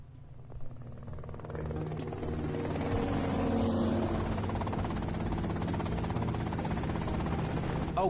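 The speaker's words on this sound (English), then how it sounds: "that's them in the chopper" Helicopter from the video game GTA Vice City, a steady rotor and engine drone rising in the first second and holding loud and continuous throughout, with faint game effects layered over it.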